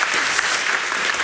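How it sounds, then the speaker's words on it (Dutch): Brief, steady burst of audience applause at a national student debate, a dense round of clapping filling a hall, fairly loud and continuous with no voices over it. "Applaus voor de BBB"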